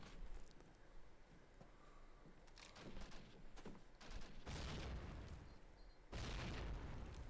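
Grenades exploding in Call of Duty United Offensive multiplayer, several fairly faint booming blasts that swell and fade amid scattered gunfire, the last bursts near the end the strongest.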